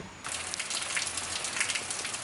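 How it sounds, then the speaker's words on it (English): Rain starting to fall outdoors, a steady, dense patter of drops that begins abruptly after a brief quiet moment and continues evenly, fairly close, with no talking. "It's deciding to rain on me."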